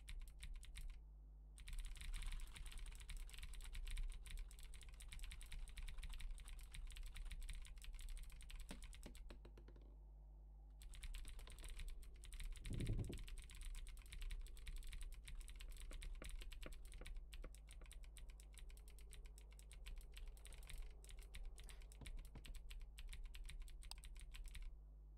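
Typing on a computer keyboard, quiet irregular bursts of key clicks over a low steady hum, with a few short pauses and no talking.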